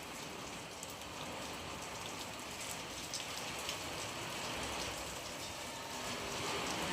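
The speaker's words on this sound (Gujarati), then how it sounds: "તો ગાઈસ જોરદાર વરસાદ પડ્યો" Heavy rain pours down in a steady, dense patter, fairly faint and distant, with a continuous hiss across the whole stretch and no voices.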